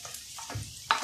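Garlic and onion sizzle in hot oil in a pan while a utensil stirs them, a brief close clatter over steady frying for a Filipino-style gambas al ajillo.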